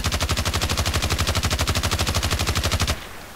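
A QBB-95 machine gun in the video game Battlefield Play4Free fires one sustained automatic burst of about three seconds, a loud, rapid and evenly spaced stream of shots that then cuts off abruptly, with no talking.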